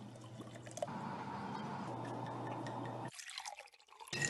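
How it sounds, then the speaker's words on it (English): Bourbon pours steadily into a glass at close range, a soft continuous trickle under quiet room tone that stops abruptly, followed by a few faint clinks. "The sound of a bourbon being poured."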